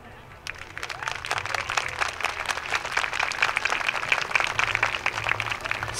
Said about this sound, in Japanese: 代わりに手拍子で応援いただけますと嬉しいです